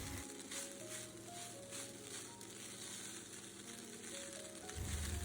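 Burnt garlic egg fried rice gets mixed in a hot pan, with a soft, steady sizzle and light stirring, then a louder scrape and clatter at the very end.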